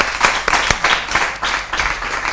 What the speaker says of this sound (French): On applaudit très fort pour eux.